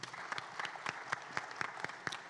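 Audience at a panel discussion on wellness in the creative industries breaks into steady applause, many hands clapping densely together at moderate distance, continuing throughout without speech.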